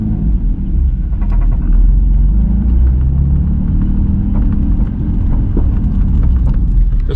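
A manual car pulls away from a stop, its engine rumble low and steady, held close and loud from start to finish with no talking.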